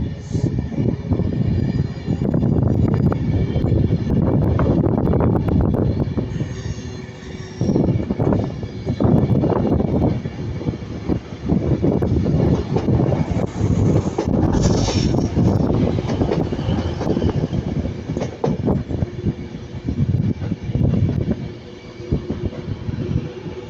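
A Class 390 electric passenger train passing at Ardwick: a loud, sustained roar of traction and wheel noise that rises and churns for more than twenty seconds, close by, with no talking.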